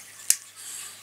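A single sharp, close snip as a small part is cut from a plastic model kit sprue, followed by soft faint rustling.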